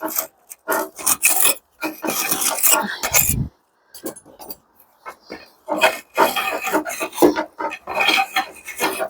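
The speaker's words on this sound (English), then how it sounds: "you need to make sure you're building a channel so that you're loosening the soil as much as you can" Compacted soil being scraped and loosened from a bonsai pot while repotting a Melaleuca bracteata, heard as close, loud gritty rasping in repeated bursts separated by short pauses, with no talking.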